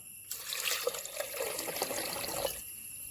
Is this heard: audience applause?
no